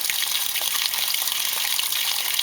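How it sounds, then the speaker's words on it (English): Rinse water gushes steadily into the drum of a Maytag Centennial HE top-load washing machine (MVWC415) during the rinse cycle, a continuous close hiss with no talking. "here, as I mentioned, is the rinse agitation. Going to add more water."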